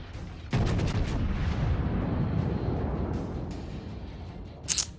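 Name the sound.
naval gunfire salvo in World of Warships video game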